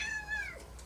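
A pet cat named Patches lets out one short, wavering meow while watching birds, the call close and faint and quickly trailing off.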